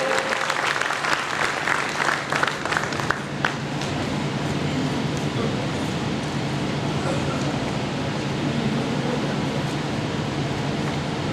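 A crowd applauds at a yarn dyeing party, sharp claps most distinct at first, then settling into a dense, steady wash of clapping that continues throughout.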